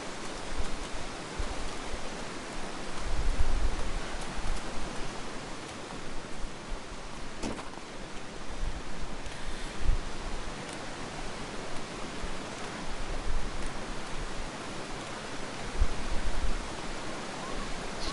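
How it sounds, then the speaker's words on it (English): A loud waterfall in the survival video game The Long Dark roars as a steady, dense broadband rush across the whole clip, with slight swells in intensity and no voices over it. "As soon as I can get past this waterfall, oh my god, that's so loud."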